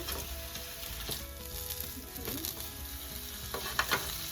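Venison frying in a pan as the pieces are turned, a faint, steady sizzle with a few soft clinks and scrapes of the utensil, no talk.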